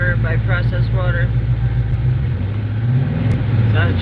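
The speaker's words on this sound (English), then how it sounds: "Sounds just like a muscle car." A hydrogen-powered car engine runs with a deep, throaty idle and rumble that swells and dips, close and loud, while people talk over it.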